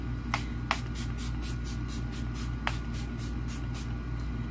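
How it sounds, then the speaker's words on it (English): A Revolution Pro Fix setting spray bottle gives several short, fine-mist sprays in quick succession, faint and close over a steady background hum. "I'm using the Revolution Pro Fix setting spray"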